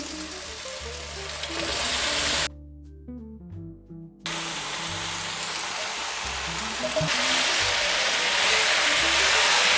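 Marinated soybean chunks go into a pan of nearly softened tomatoes over low-medium heat, giving a steady, close sizzle that drops out briefly in the middle before resuming just as strong.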